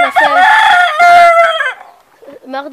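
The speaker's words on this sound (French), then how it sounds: "Donc là on a la petite poule naine, enfin semi-naine." A small semi-bantam hen on a poultry breeding setup gives a loud, drawn-out, tonal call close by, followed by a few softer clucks.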